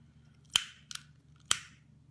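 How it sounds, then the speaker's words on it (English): Scissors snip excess bow string serving off a bowstring: three sharp, close clicks in quick succession in an otherwise quiet room. "I'll cut that excess off there."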